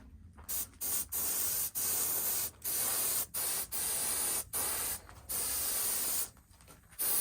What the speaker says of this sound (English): Finally, a good weather day. Do some spraying.